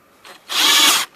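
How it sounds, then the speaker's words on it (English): A single burst of a power drill driving bolts on a 2012 Ford Focus SE air filter housing, whirring at high speed for about half a second, close by, with brief quieter mechanical rustling before and after. "Put my drill master back the other way around."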